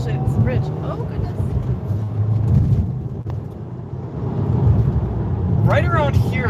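A 2020 Subaru WRX engine pulls hard through the revs while driving, a low growl swelling and fading inside the cabin as people talk over it.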